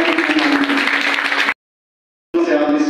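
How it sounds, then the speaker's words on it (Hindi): Loud applause from the audience at a retirement party, a dense steady wall of clapping that cuts out abruptly for a moment before resuming at full strength. "एक बार जोरदार तालियां अपने लिए"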